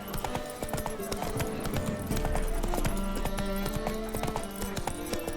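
Roach the horse gallops in The Witcher 3, rapid rhythmic hoofbeats pounding close and loud over game music, with a brief voice in the mix.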